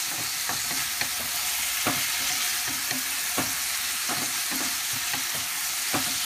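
A tofu mixture fries in a pan with a constant sizzle, while a utensil stirs it in repeated scraping strokes at an uneven rhythm, heard up close without talk.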